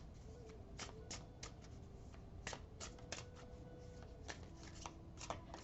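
Oracle card deck shuffled by hand, a quick series of crisp riffling and slapping card bursts in an irregular rhythm, close and fairly quiet over a low background hum.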